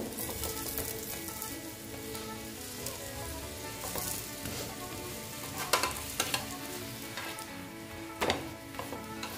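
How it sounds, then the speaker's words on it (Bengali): A potato and flour snack fries gently in a pan, with a soft continuous sizzle and occasional louder crackles and pops. "এটা ভেজে নিচ্ছি আস্তে আস্তে।"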